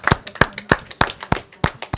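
Steady, rhythmic hand claps, about three per second, crisp and close, with little else around them.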